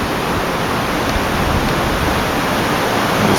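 Water rushes steadily through the back-channel spillway of the Rideau Canal, a dense, unbroken roar at constant loudness from start to finish, with no voices over it.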